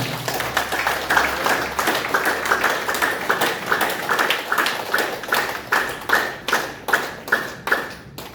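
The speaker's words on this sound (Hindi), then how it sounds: "तो मुस्कुराओ और तालियां बजाओ।" An audience at a motivational speech event in Haridwar claps in steady rhythmic unison, sharp evenly spaced claps repeating loudly throughout with a faint voice early on.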